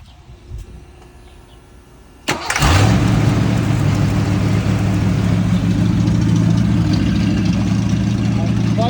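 A car engine cranks with a sudden jolt and fires at once, settling into a loud, steady idle close by, after a quieter stretch of movement and shuffling.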